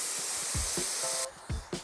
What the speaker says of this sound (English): I can see when I introduce the steam to it, the creases do come out